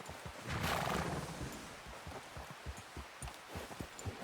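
A horse in Red Dead Redemption 2 whinnies once with a strained, breathy neigh, then its hooves clip-clop in a steady rhythm over soft ground, close and moderately loud against faint outdoor ambience.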